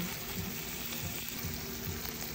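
Shrimp frying in butter in a pan while being stirred: a steady, close sizzle with soft rhythmic scraping strokes of the utensil throughout.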